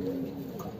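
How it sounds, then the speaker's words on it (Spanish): Pigeons in a loft of Argentine buchón birds, low soft cooing close by, a brief murmur of calls over faint background noise. "Qué hermoso paloma."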